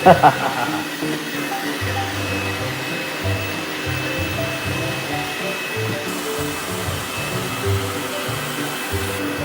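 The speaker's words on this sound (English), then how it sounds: "this particular robot vacuum kind of just goes all over the place" A robot vacuum cleaner runs with a steady, close whirring motor hum, broken by a few sharp bumps at the start as it wanders the floor.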